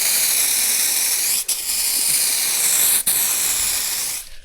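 Aerosol spray paint hissing steadily onto an automotive part in fast, even coats, a close continuous spray broken by two brief pauses before it cuts off near the end.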